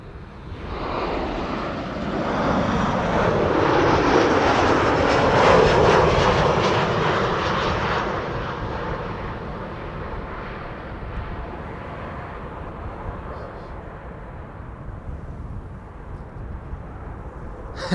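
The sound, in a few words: Boeing 787 Dreamliner airliner arriving at Amsterdam Schiphol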